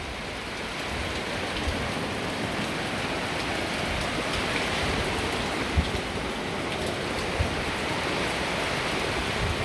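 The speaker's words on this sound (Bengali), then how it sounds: "মুষলধারে বৃষ্টি।" Heavy downpour beside the Gorai River in Kushtia, with gusty wind off the riverbank: a dense, steady roar of rain on surfaces filling the whole clip, loud and unbroken, with a few sharper drop hits.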